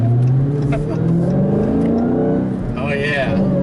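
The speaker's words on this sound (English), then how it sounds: "You hear that supercharger whine." A 2020 Dodge Challenger Hellcat with a manual gearbox and supercharger revs close up, its engine note rising with a high supercharger whine climbing over the rumble, while a voice talks over it.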